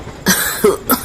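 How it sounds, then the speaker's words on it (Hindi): An old man coughs three times in quick succession, harsh and close, the first cough strongest and the next two short and raspy. "वो बूढ़ा खांसते हुए कहता है"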